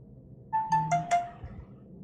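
A new Android phone ringtone plays a short ascending run of four bright electronic tones, close and clear, then stops.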